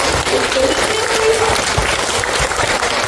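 Audience applause at a library arts-days project closing celebration, a steady dense clatter of many hands filling the room for about three seconds, with a faint voice briefly over it.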